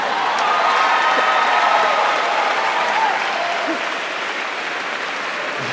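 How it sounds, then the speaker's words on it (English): Audience at a National Book Award ceremony for poetry breaks into loud, sustained applause mixed with cheering from a large crowd, holding steady and then easing slightly toward the end. "It's also the loudest I've heard anyone cheer for an award for poetry."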